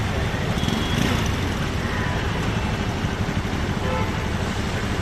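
Dense road traffic noise in a Bangalore traffic jam, a steady broadband rumble of cars, buses and engines held at close range throughout, with no clear voices.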